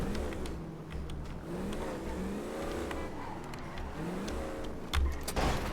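Car engine idling and revving softly while a vehicle is parked in a roleplay video game, a low steady hum with gentle pitch swells and a brief louder bump near the end.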